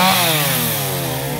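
A chainsaw cuts into a huge rain tree, the engine running loud and close at a high steady drone that sags slightly as the chain bites the wood.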